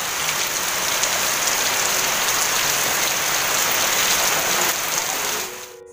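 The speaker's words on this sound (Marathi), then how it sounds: "जोरदार पाऊस, जोरदार।" A heavy downpour roars as a constant broadband hiss of rain hitting surfaces, loud and unbroken before it drops off sharply near the end.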